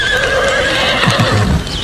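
A horse neighs in a long, loud, close whinny that rises and wavers, followed by a few clip-clop hoof sounds near the end.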